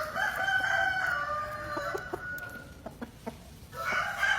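A fighting rooster crows loudly nearby with a long drawn-out call, followed by a series of short clucks and a second crow starting at the end.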